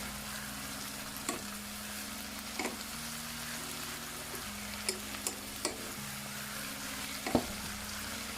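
Garlic paste, ginger paste and seasoning get mixed into a pot for a Jamaican vegan coconut chickpea curry, a soft steady sizzle with a few scattered clicks of the spoon and a low steady hum beneath.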